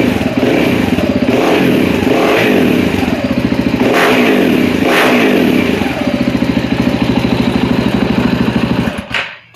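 A KTM 690 motorcycle with an FMF 4.1 exhaust, baffle installed, revs loudly and up close in a series of rising blips over a steady, rumbling idle, then cuts off abruptly at the end.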